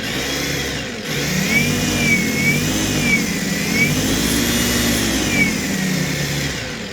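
An EGO cordless snow shovel attachment's small electric motor hums steadily with a rising and falling whine, running continuously up close at a fairly loud level.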